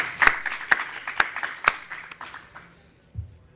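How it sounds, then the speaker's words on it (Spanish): A few sparse hand claps ring out in a room, about four distinct sharp claps spaced roughly half a second apart, then thinning out and fading, a brief, scattered bit of applause rather than a full ovation. "Pido también un aplauso para la Universidad Politécnica."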